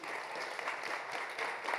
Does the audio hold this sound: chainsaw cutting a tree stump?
no